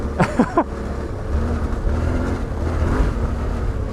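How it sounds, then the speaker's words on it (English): A 2021 Yamaha Tenere 700 motorcycle engine revs in second gear: two quick rising revs, then a steady, loud drone under wind rush, with no talking. "This bike's so fun to zoot up in second gear."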